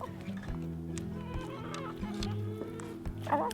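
Hens cluck and murmur close by in a backyard flock, a steady run of low, throaty clucks with a few louder squawks near the end.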